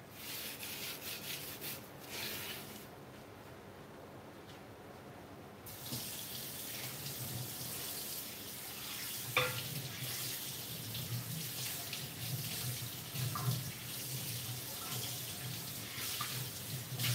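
A pot scrubbed with a brush and rinsed under a running tap, with rushing water and rhythmic brushing strokes close by, a short pause in the flow before the water resumes.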